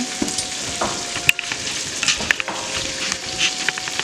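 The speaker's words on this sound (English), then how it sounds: "Then we got the fries cooking down there." French fries fry in hot oil in a home kitchen, a steady close crackling sizzle with occasional pops and light clatter, no talking over it.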